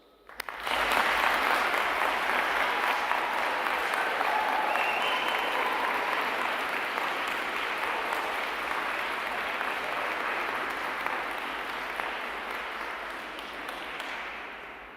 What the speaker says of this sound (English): they too deserve a round of applause